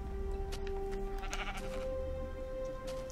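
A sheep bleats in the Minecraft video game, a few wavering calls up close over an ambient in-game hum, with no talking.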